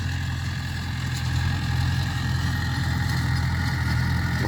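A DTZ 5404 tractor engine runs steadily while sowing buckwheat and corn with a seed drill, a loud, close, continuous diesel drone with a constant low throb and no talk.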